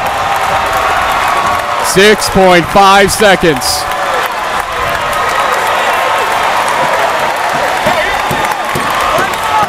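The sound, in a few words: basketball game crowd cheering and applauding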